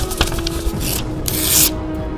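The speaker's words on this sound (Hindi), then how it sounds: "कागज फाड़ते समय एक अजीब सी आवाज आती है" A rough, crackling rip of paper tearing in short bursts with some broadband hiss, fairly close and with no voices.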